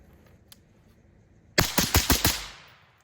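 A quick string of about five or six loud, sharp rifle shots from a rifle fitted with a BRT EZ Tune gas tube, fired at a target about 12 yards away. The shots crack out close together after a quiet stretch, and their echo trails off.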